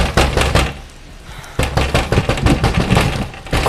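Loud, rapid pounding knocks on a door, in two bursts separated by a short pause, the blows thudding heavily in a cartoon scene outside a witch's house.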